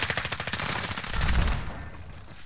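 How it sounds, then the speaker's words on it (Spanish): Rapid automatic gunfire in Call of Duty: Modern Warfare Warzone, a fast burst of evenly spaced shots, close and loud, followed by a heavier boom and fading tail, with no talking. "Un tiro, un tiro, un tiro, un tiro."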